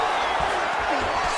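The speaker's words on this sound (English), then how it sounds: "that strike from the bottom fighter got the crowd's attention" Arena crowd in the UFC 5 fighting game reacting to a ground strike, a dense continuous roar of noise with faint low thumps, loud and steady throughout.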